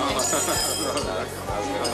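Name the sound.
glasses clinking in a toast with white wine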